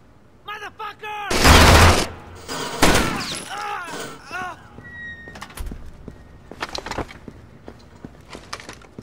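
Gunfire in Rainbow Six Vegas, loud bursts of automatic fire early on, then scattered sharp shots and impacts, mixed with game sounds and a voice talking over part of it.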